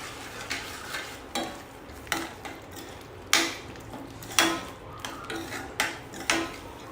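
Grated paneer stirred into a sizzling masala gravy in a pan, a spoon scraping and knocking against the metal in repeated sharp strokes, fairly loud and close, over a steady frying hiss.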